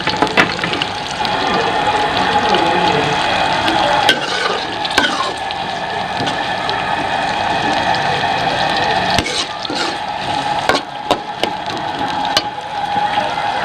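Onions frying in a pan for karela pyaz, a steady loud sizzle with occasional stirring clatters throughout, close to the pan and with no talking.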